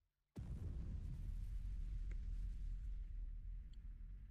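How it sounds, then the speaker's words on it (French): A huge explosion from the anime Kaiju No. 8 erupts suddenly after near silence, then a sustained deep, roaring shockwave rumble holds loud for several seconds before easing slightly. "l'explosion de malade"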